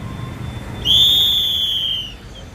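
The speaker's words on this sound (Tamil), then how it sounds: "விசில் அடிக்க பயந்துருவாங்க" A single loud, sustained whistle blast blown at a street protest by doctors over the murder of a woman doctor, lasting over a second and fading out, with crowd noise faint beneath it.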